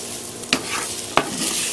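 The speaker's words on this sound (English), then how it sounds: "you could hear it sizzling because it's a little wet" Hash browns, a little wet, sizzle quietly in a skillet with a steady crackling hiss, punctuated by two sharp scraping stirs.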